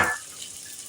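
Onion pieces hit hot oil in a pan while cooking palak paneer, giving a short burst of loud sizzle that quickly settles into a soft, steady frying hiss.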